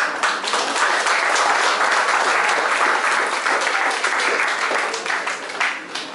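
An audience at a café evening event gives János Dedik a dense, loud round of applause that stays full and steady throughout, with no speech over it.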